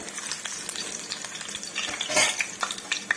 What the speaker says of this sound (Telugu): ఆయిల్ హీట్ ఎక్కాక పోపులను అయితే వేయించుకుందామండి ముందుగా వెల్లుల్లిపాయలు అయితే వేసాను